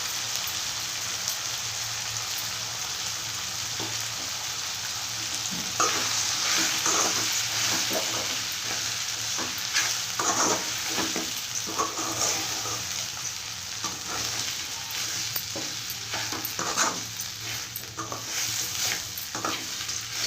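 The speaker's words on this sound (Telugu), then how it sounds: "ఇప్పుడు సేమియా రవ్వ వేసుకుని వేయించుకోవాలి." Semiya and wheat rava dry-roasting in a pan for upma, a steady close sizzle broken by repeated scraping strokes of a spoon stirring the grains, with no talking.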